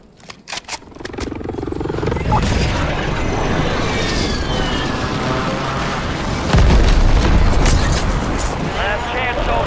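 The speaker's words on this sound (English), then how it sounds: "Friendly precision airstrike inbound." Precision airstrike explosions in a military shooter video game rumble as heavy, sustained booms and roaring blasts, loud and close, with game sounds layered throughout.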